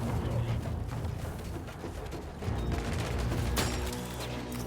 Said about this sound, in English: Got him being shot at.